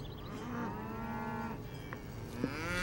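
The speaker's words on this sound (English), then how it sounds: "Cows! Can we go see the cows? Can we?" Cartoon cows moo in a couple of long, drawn-out calls at moderate distance against a quiet outdoor background.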